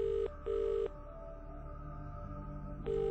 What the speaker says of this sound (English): let me just call Mr. Wheeler since I have his phone number